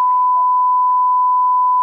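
A steady, high censor bleep tone held for about two seconds, fully masking speech in a casual weekend vlog from a royal show.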